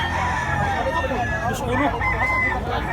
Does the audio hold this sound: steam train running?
no